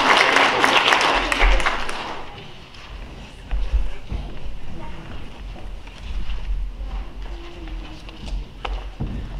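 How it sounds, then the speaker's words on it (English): A church congregation at an Easter service applauds loudly for about two seconds, then the clapping fades into quiet room noise, shuffling and scattered thumps. "I think you need another round of applause."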